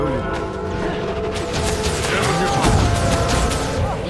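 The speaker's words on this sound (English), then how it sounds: "Fire all cannons!" Heavy booming cannon blasts and crashing impacts rattle through a busy Guild Wars 2 PvP match soundscape, with several loud hits in quick succession over a dense, noisy background.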